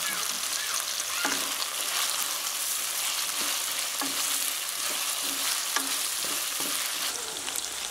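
Capsicum and onion pieces stir-fried for restaurant-style corn manchurian: a steady, loud sizzle runs throughout, with repeated scraping knocks of a spatula against the pan.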